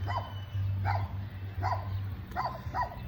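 Several dogs bark outdoors on a street, with a few repeated bark bursts over a steady low hum of traffic or an engine in the background.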